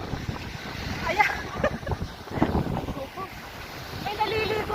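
Rough sea waves and gusty wind at a beach, with surf churning and wind buffeting the microphone, while a person talks over the noise.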